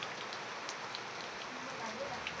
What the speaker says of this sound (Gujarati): વરસાદ થઈ ગયો છે ફૂલે ફૂલ ચાલુ